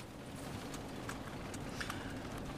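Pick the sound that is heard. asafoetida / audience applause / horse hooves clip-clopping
horse hooves clip-clopping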